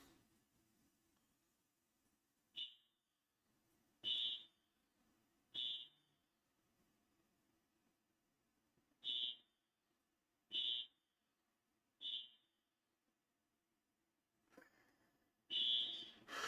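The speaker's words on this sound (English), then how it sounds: "The fire alarm went off." A building fire alarm going off in short, high-pitched electronic beeps, about seven bursts spaced a second or two apart, fairly faint over a quiet indoor background.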